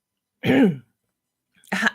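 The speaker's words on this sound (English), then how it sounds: "Let's clear my throat before we go there" Someone clears their throat twice, close and loud, with about a second of silence between the two rough bursts.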